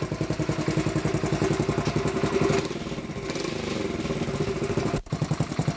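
A 1985 Honda CT 70 mini bike engine idles close by with a rapid, even put-put chug that softens briefly in the middle and then returns, with a short clunk near the end.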